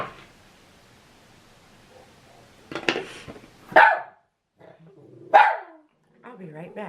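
Dogs bark in short, separate bursts, some close and loud, with a gap of near silence between them and faint low household sounds around.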